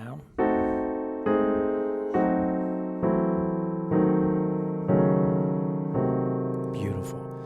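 A diminished scale harmonized in locked-hands block-chord voicings, descending as about seven sustained chords struck one after another at a steady, unhurried pace, each ringing clearly until the next.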